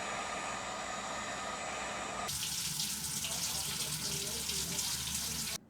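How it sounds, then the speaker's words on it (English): Cold water streams from a tap onto a molded action-figure helmet piece, a steady hiss that turns into a louder, brighter splashing rush partway through as the flow hits the part, then cuts off abruptly at the end. "And then I put it under cold water to mold it to his head."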